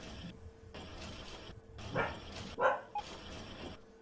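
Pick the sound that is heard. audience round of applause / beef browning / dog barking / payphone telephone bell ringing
dog barking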